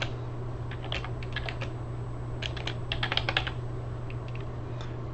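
Someone types a title into a new Microsoft Forms form on a computer keyboard, with irregular bursts of light key clicks and short pauses over a constant background hum.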